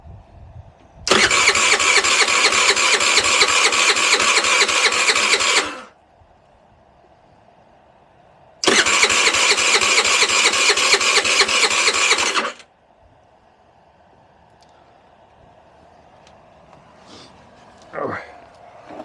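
The Direct Bikes DB50QT-11 sport moped, under restoration, gets two long, loud cranking attempts of about four to five seconds each with a quiet pause between them. Afterwards only faint handling noises follow.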